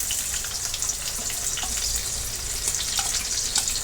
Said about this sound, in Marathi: आता आपण ह्याच्यामध्ये कांदा पहिला भाजून घेणार आहोत.